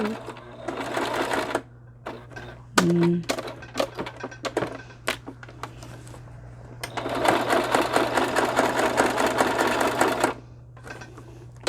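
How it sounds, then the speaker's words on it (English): Close and loud, a sewing machine whirs through short stop-start bursts with clicks and thunks in between, then a longer steady run of stitching before stopping. "I've gone away to sew."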